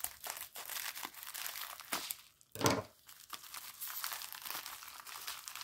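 A plastic bag crinkles and rustles in close, intermittent handfuls while being rummaged for items from a diamond art PR package, with one louder crumpling burst midway and softer scattered crackles around it.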